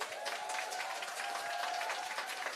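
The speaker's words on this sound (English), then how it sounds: "And can we also have a massive round of applause for Lindsay, who was an amazing host" Sustained audience applause at an evening science-fiction literary event, steady even clapping from a crowd heard at moderate distance, with a faint tone running underneath.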